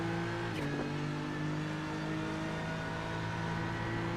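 A BMW GT3 race car in a racing video game at Laguna Seca gives a steady, loud engine drone with a brief pitch dip near the start, and no talk over it.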